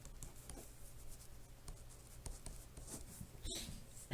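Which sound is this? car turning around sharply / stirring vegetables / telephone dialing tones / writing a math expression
writing a math expression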